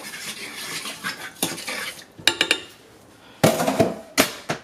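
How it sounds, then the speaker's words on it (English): A spoon stirs rice, shredded coconut and water in a metal pot, giving close, loud scraping clatters and knocks in uneven bursts with short pauses between them. "Give that a good old stir."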